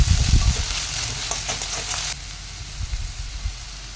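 Onion flowers frying in a pan with tomato sauce and soy sauce, a steady close sizzle with stirring scrapes and clatter, louder at first and then settling into a softer hiss.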